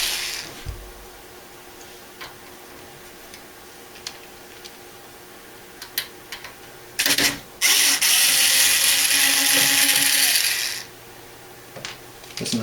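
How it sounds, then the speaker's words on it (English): Back panel being taken off a small computer unit, scattered small clicks and ticks of screws and parts, then a loud sustained hiss-like scraping burst for several seconds, no talk. "So we're going to take the back panel off this."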